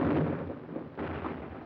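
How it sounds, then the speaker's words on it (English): Heavy artillery barrages in a World War II battle at San Pietro, Italy: deep, rumbling booms rolling on continuously, with a fresh blast near the start and another around the middle, distant and muffled, no voices. "Our own artillery was brought to fall within 100 yards of our front-line elements"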